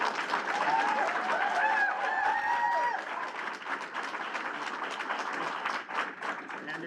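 Steady applause from a school board meeting audience, a full room clapping continuously at moderate volume while voices murmur underneath.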